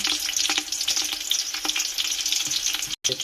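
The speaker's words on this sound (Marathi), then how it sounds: "खडे मसाले घेतले ते खडे मसाले यामध्ये टाकणार आहोत." Whole spices sizzle and crackle steadily in hot oil for egg biryani, a bright, busy frying hiss with small pops and stirring scrapes, close and unbroken apart from a brief cut.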